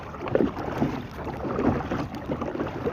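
A paddled kayak glides over a calm sea on a still morning, with soft rhythmic paddle strokes and gentle water swishes against faint wind noise.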